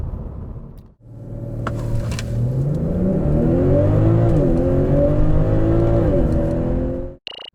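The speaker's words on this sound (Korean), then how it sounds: "BMW 540i x드라이브 과연 얼마만큼 빠른 가속 성능을 가졌는지 한번 볼까요?" A 2021 BMW 540i xDrive facelift launches at full throttle, its engine note climbing steadily through rising revs with a brief dip at a gear change, loud and close, then cutting off abruptly at the end.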